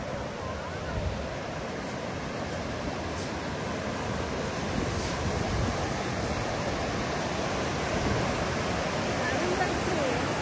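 Sea waves at high tide reaching the gate of a beach resort at Mandarmani, a continuous, loud roar of surf with steady wash and no distinct breaks, mixed with wind.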